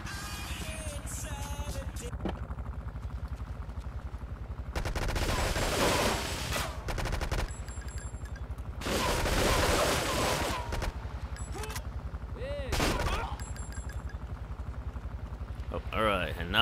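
Gunfire in Grand Theft Auto 3 at a dam, heavy bursts of rapid automatic shots in several long volleys over an engine-like rumble, loud and close, with someone talking throughout.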